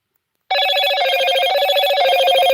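A telephone rings with a sudden loud electronic bell tone that starts after half a second of silence and then warbles on steadily and close, with no voices.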